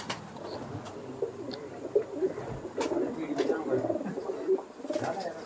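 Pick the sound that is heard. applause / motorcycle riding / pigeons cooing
pigeons cooing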